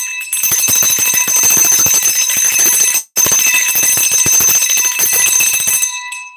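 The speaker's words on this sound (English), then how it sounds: "Where's my bell?" A bell rings loudly and steadily, a dense bright metallic chime with a brief gap near the middle, then continuing.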